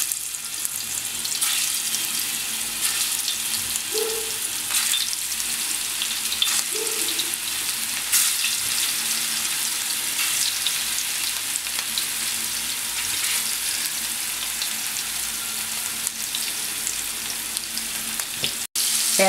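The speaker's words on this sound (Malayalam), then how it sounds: "എണ്ണ ചൂടായതിന് ശേഷം അതിലേക്ക് ഫിഷ് പീസസ് ഓരോന്നായി ഇടുക." Fish pieces for Kerala fish pickle fry in hot oil with a steady, close hiss and crackle, broken by a few soft clinks.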